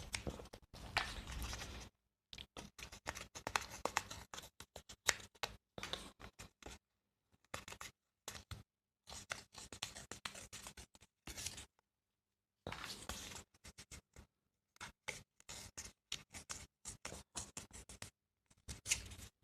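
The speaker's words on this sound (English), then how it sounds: "I think I am just going to take the risk and tear it a little bit" Paper is torn by hand to trim a page for a small handmade mini journal, heard as many short, quiet ripping and rustling bursts separated by silent gaps.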